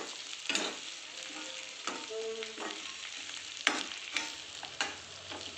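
Okra tossed into a hot pan and stirred, a steady frying sizzle broken by several sharp scraping clatters of the spoon against the pan, close and moderately loud with no voices.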